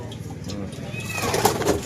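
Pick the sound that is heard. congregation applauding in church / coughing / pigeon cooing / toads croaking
pigeon cooing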